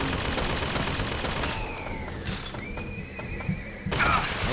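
Gunfire in the video game Bioshock Infinite, with bursts of shots and sharp cracks spread over a busy, dense background of game noise, fairly loud throughout.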